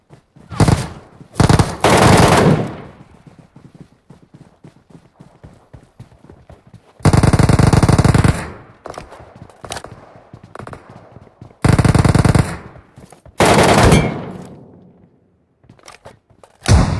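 MetroRoyale video game gunfire: several loud bursts of rapid automatic fire, each one to two seconds, separated by quieter gaps with faint background clatter, no talking.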